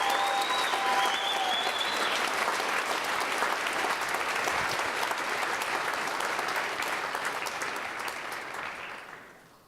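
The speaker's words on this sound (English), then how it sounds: "Give them a round of applause." School assembly crowd at Juneau-Douglas High School applauding Alaska state champion basketball players, a dense, steady roar of clapping from many hands that fills the room, then fades out near the end.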